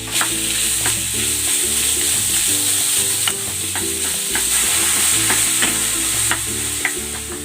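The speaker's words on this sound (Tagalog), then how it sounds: "Igigisa ko na tong ground beef." Ground beef sautéing in a pan with garlic and onion, a loud, steady sizzle broken by repeated scrapes and clacks of stirring throughout.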